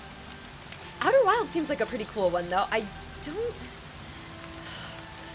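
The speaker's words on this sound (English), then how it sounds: "Oh, it's raining now, too. I love the rainy vibes." Rain falling in the video game Horizon Zero Dawn, a steady soft patter running quietly in the background while a person talks over it.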